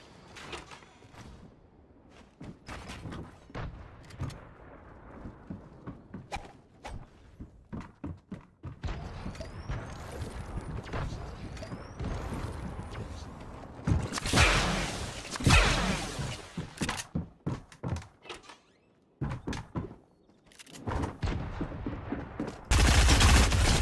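Rapid gunfire from Fortnite combat, rendered as game audio: bursts of sharp shots in irregular volleys, some close together, with whooshing and thunks between them. The shooting grows louder and denser toward the end.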